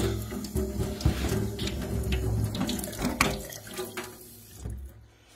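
Water runs and splashes steadily off a waterproof 35-litre hiking backpack, like a tap pouring onto fabric, with a continuous close wash and a few irregular drips and pats.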